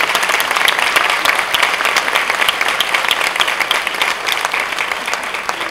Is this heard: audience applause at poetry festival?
yes